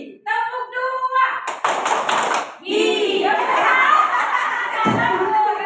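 Group hand claps in a clapping game burst out after a caller's voice, a brief cluster of close claps followed by chatter and some laughter from the group.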